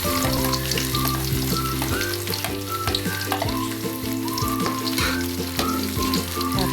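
Garlic fries in hot oil with a loud, steady crackling sizzle, close up and unbroken throughout, with occasional utensil clinks as it is stirred.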